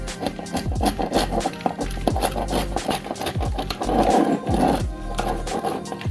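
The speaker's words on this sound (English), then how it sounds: "I like to go along the side like this and just scrape up" Repeated short scraping strokes of a tool along chipped paint on an old wood door frame, close and fairly loud, a series of rasping pulls in an irregular rhythm, no talking.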